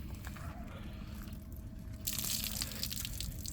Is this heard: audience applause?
no